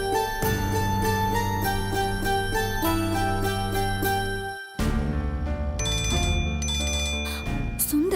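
A phone rings over and over with a bright, tonal ring while a call is being placed. A brief pause falls partway through and the tone changes afterward. Soft background music plays underneath and no one speaks.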